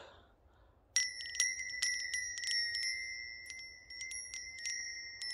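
Small metal bells fitted to a Mercury 80 Bigfoot toy are rung over and over, giving bright, thin dings that ring on and overlap, close and fairly quiet against a soft outdoor hush.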